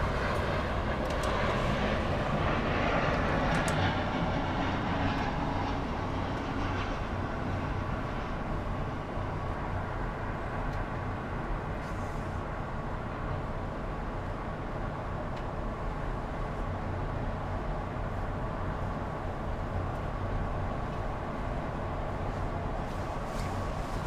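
Porter Embraer 195 E2 airliner at Miami Airport, a steady broadband jet roar heard from a distance, continuous and fairly even throughout with no talking.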